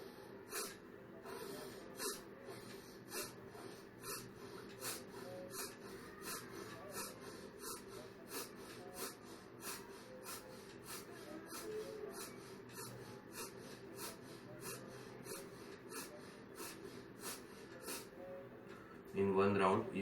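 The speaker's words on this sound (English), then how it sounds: "We have to inhale deeply and exhale out forcefully like this." Bhastrika Pranayam breathing, with a steady run of forceful, evenly spaced inhale and exhale bursts repeated quickly and close up, rhythmic throughout, louder at the very end.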